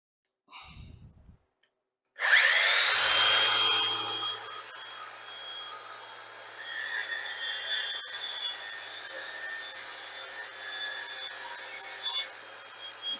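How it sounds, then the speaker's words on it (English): A grinder works the side of a Reddot 84-inch four-passenger roof panel being fitted to a 2018 E-Z-GO TXT golf cart, a close, steady abrasive whine that starts suddenly, runs continuously and shifts in pitch as the tool moves. "Grind a little off that side"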